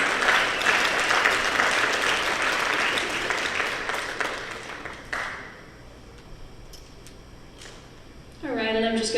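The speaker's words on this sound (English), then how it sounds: "Let's give them a round of applause, guys." Audience applause at a scholarship night, loud dense clapping from a crowd that swells early and tapers to scattered claps before a voice begins speaking near the end.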